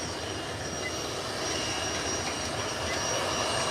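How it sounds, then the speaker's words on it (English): Southwest airliner taking off and climbing away into cloud, a steady broad roar of engines that holds constant and swells slightly, heard at some distance with no voices. "And there is Southwest, ascending, ascending, ascending, now into the cloud."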